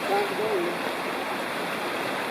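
Creek water flows steadily at a wilderness trail crossing, a constant close rushing hiss, with a brief faint voice over it at the start.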